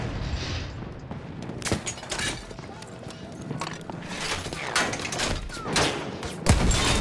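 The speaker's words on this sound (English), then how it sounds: "Burning it with this big ass cannon I've got." Heavy cannon fire from a tank in Battlefield rumbles among scattered gunfire bursts and booms, with sharp transient blasts spread irregularly and a louder hit near the end.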